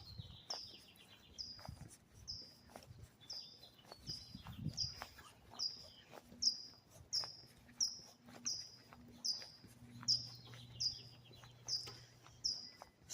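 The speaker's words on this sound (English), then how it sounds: "Yeah, because you hear the birds." Small birds chirp at dawn in a steady, repeating rhythm, fairly distant and quiet, with short bright calls every second or so over a faint low hum.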